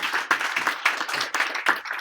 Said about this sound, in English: So give her a big hand of applause.